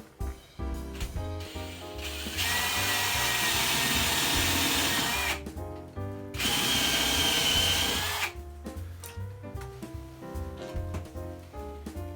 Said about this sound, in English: I'm going to drill a pilot hole for my anchor screw.